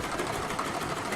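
A sewing machine in a Ghanaian village whirs steadily with a fast, even mechanical chatter, moderately close but fairly quiet, running without a break.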